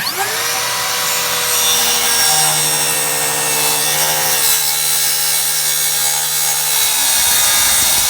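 A circular skill saw fitted with a Diablo blade cuts down through rotten wooden deck boards, one loud, steady whining cut that holds for several seconds, then winds down.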